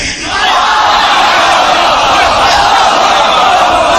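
A large audience at a religious debate gathering raises a sustained, loud roar of voices, with crowd chanting and cheering blending into a continuous wall of sound for the whole span.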